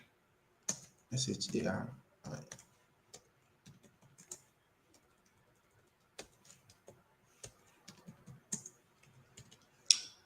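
Typing on a computer keyboard while working in Figma: sparse, soft key clicks in short clusters and single taps, with a voice speaking briefly over them.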